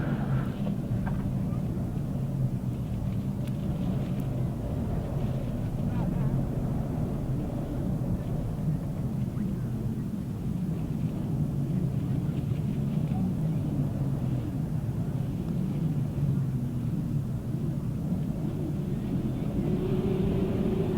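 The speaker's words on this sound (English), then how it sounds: "Revving up and waiting with race number 43." 1000cc sidecar outfits rev their engines at the start of a grasstrack qualifier, a continuous loud rumbling drone of several motors held under a public-address commentary.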